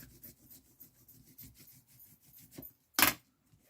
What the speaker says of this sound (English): on the back you can burnish the glue that is on the back of your block to the back of your hardcover